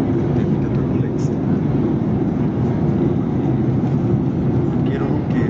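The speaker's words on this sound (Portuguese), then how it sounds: "Queira ou não queira, tu tá dentro do avião" Airplane cabin on a turbulent flight to Madrid: a loud, constant engine and air roar fills the cabin without letup, with no talk over it.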